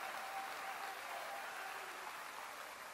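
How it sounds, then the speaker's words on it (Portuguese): Congregation applause at a church service: soft, dense clapping sustained evenly, heard faint and somewhat distant with no voices on top. "as palmas glorificam ao Senhor Jesus"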